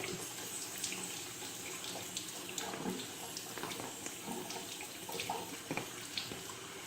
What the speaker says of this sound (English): I have the warm water going here